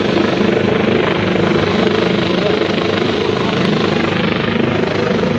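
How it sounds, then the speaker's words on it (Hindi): Army helicopter during a chairlift rescue operation in Battagram, Pakistan, a loud, constant rotor and engine roar that stays close and fills the whole stretch without letting up. "आर्मी का जो दूसरा हेलीकॉप्टर है वो भी इस वक्त पहुंच चुका है।"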